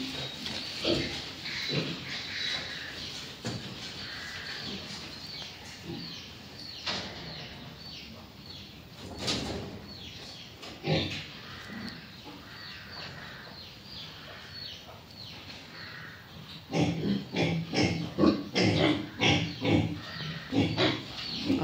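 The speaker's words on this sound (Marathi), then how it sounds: "इकडे पण डुक्कर आहेत वाटतं." Pigs grunt and snuffle on a family farm pen, with a large hog among the resting animals; the grunts come close and irregularly, thickening into a loud rhythmic run of oinks near the end, with no talk over them.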